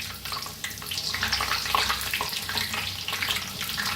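Spinach pakoras frying in hot oil, a continuous bubbling sizzle with crackling pops, fairly close and steady, with no talking.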